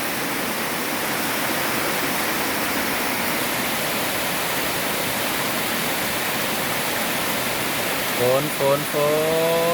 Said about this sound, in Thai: ฝนลงมา